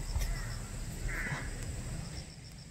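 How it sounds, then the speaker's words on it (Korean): A crow caws once, a little distant, over a steady outdoor hum and low rumble, in a forest native plant garden at Yumyeongsan, South Korea, near dogwood trees. "오늘은 까마귀 소리만 무성하게 들려드리네요"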